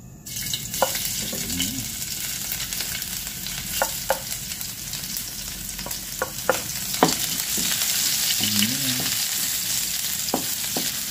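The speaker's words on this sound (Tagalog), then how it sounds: "Gigisa na natin ng ating luya." Ginger sautés in a little oil in a pan, giving a loud, continuous close-up sizzle broken by occasional light taps and stirring scrapes.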